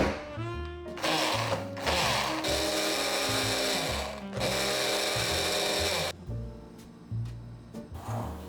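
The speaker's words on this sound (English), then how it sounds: "I'm using a mini food processor to really finely grind up the coconut and tea leaves." A mini food processor grinding shredded coconut and tea leaves whirs loudly in several bursts, starting and stopping with short pauses between, close by.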